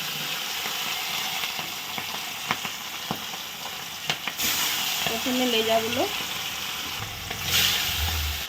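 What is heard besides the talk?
fish frying in hot oil in a wok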